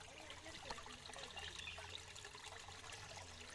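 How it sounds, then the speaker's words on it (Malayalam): Water trickles and babbles steadily over stones in a small stream on rural land in Wayanad, a soft, continuous burble heard at a moderate distance with no talk. "ഇവിടെ കല്ല്, അരുവി കളകളാ സൗണ്ട് കേൾക്കും"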